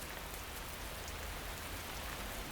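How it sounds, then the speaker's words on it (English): Steady rain falls at night in Africa, a dense, even hiss of drops hitting the ground, close and continuous with no voices. "The rain moves on after just a few minutes."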